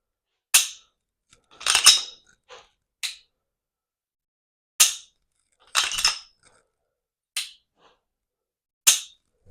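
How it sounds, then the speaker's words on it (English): Dry-fire trigger pulls on a PSA Dagger pistol give sharp, crisp clicks, several spaced irregularly with some doubled snaps, loud and close against silence, with no talking. "It has a nice trigger pull."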